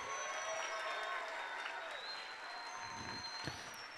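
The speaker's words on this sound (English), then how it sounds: "let's give another big round of applause to all of our middle school and elementary school choir" Audience applause at an elementary and middle school choir festival, quiet, distant crowd clapping over a steady tonal hum, with a few louder claps nearer the end.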